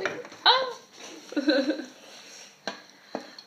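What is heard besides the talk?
stirring cooked artichokes and tomatoes into noodles in a pot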